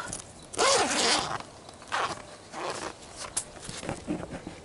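A bulletproof backpack, shot through with its spall coating ripping away, is unzipped: several loud, rasping zipper pulls in quick succession, then quieter tugs and rustling.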